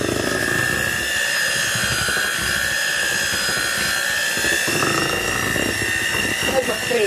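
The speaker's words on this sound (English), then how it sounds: "Low whisk, just to whisk everything together evenly." A kitchen mixer whisks red velvet cake batter on low speed, a steady whirring motor drone with a high whine that runs continuously and close up.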